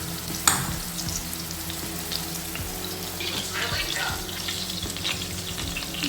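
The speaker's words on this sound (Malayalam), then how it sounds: "ഇതിന് കുറച്ച് നേരം ലോ ഫ്ലെയിമിൽ വെച്ച് വേണം വേവിക്കാൻ." A prawn ada, a Kerala-style prawn cake, cooks in a pan on low flame with a soft continuous sizzle and faint crackles, steady and fairly quiet throughout, with a light tap near the start.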